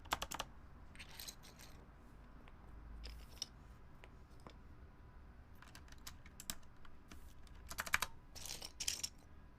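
Keys on a Compaq MX11800 computer keyboard are pressed in irregular bursts of clicky strokes, some single and some in quick clusters, close up and fairly quiet, with pauses between runs.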